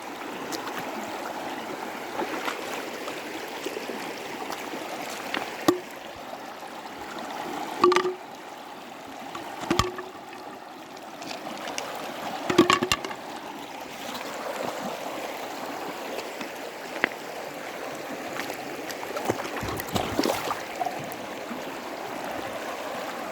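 River water is scooped by hand, giving soft sloshes and splashes over a constant rushing stream, with a few sharper knocks and splashes standing out nearby.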